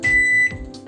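A microwave oven gives a loud, steady electronic beep lasting about half a second, followed by fainter mechanical clicks and hum in a home kitchen.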